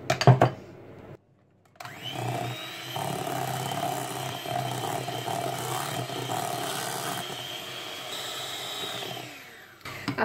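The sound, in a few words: electric mixer mixing chocolate cheesecake batter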